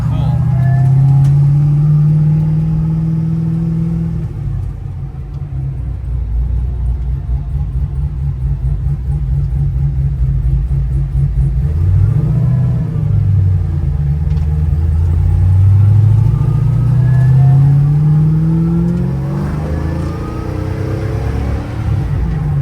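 Supercharged LT4 V8 in a 1970 SS Chevelle rumbling while driving, a loud low drone that rises and falls with throttle, heard from inside the car with people talking over it.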